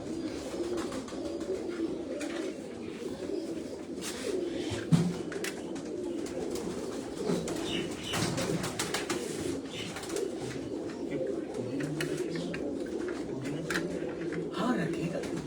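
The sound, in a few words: Salara pigeon cooing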